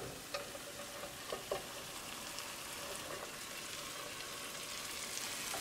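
Potato curry with tomatoes cooking in an uncovered pan, giving a steady faint sizzle with a few soft clicks of a utensil near the start.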